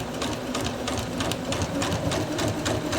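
A sewing machine stitches steadily around a fabric wreath sash, its rapid, even mechanical rattle continuous and close throughout.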